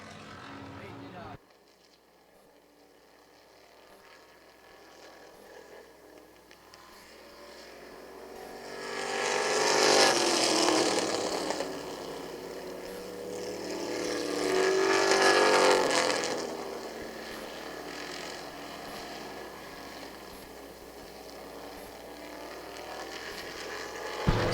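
Race cars running side by side for the lead on a track, engine drone building into two loud passing swells before fading, with commentary running over it.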